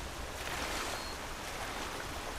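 Water sloshing and swirling as a character wades through a stream in the video game Skyrim, a steady broadband wash with no pauses, close and moderately loud.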